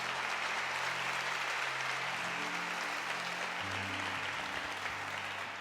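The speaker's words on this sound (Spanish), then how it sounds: "dale ese aplauso, sí." Church audience applause during a sermon: steady, dense clapping at a moderate distance, holding evenly for the whole stretch under a low sustained musical hum.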